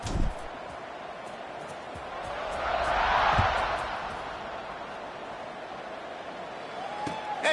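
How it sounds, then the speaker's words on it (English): Stadium crowd cheering in the NCAA 26 college football video game, a steady wash of distant voices that swells for a few seconds in the middle and then settles back to a low roar. "this crowd is feeling themselves after that last drive"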